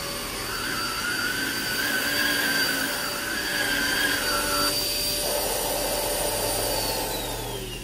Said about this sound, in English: Now for a little stick vac on a shag area rug, that did really well.